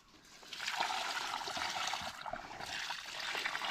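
Muddy water poured into a land crab burrow, a steady rushing splash that builds after a soft start and runs continuously at close range without talk.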